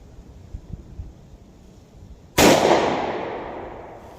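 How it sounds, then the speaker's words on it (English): A single sharp gunshot from a .38 Special revolver firing Hornady Critical Defense +P 110 grain ammunition at an outdoor range, loud and close, with a decaying tail after a quiet lead-in of faint handling noise. "We'll load one more, see if we can get that third shot."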